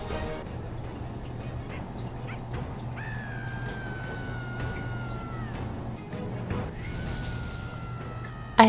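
Cat meowing inside a video game, two drawn-out mewing cries over a low steady hum, fairly faint, no talking.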